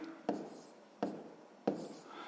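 A pen writes on paper while a grade-6 maths exercise is worked: three short scratchy strokes, each starting sharply and fading, quiet and close, with soft speech underneath.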